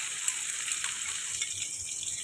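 Garlic, shallot and chili spice paste frying in a little hot cooking oil, giving a steady, close hiss and sizzle with light crackles throughout and no talking.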